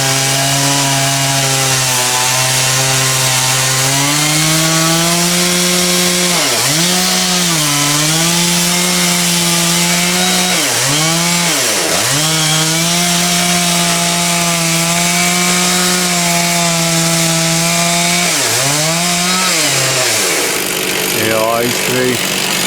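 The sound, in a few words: chainsaw cutting through ancient ash tree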